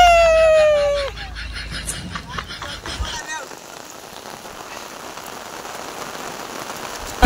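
Rain pours down on an outdoor cricket game, with a loud, busy opening that includes a rooster-like call, then a steady, even hiss of rain on surfaces carries on to the end.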